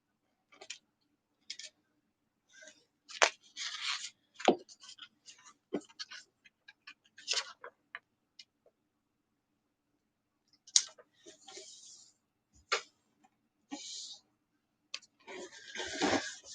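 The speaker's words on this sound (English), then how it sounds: "Sorry for the noise, I'm just trying to like flatten all the paper." Sheets of paper for folding paper cranes are flattened by hand, producing irregular crisp crinkles, taps and clicks in short scattered bursts with quiet gaps, close and fairly soft.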